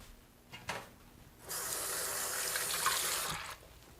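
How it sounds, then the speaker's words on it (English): Hands are washed under running tap water at a kitchen sink, a steady near splash of about two seconds between brief handling clicks, with no talk. "Wash my hands."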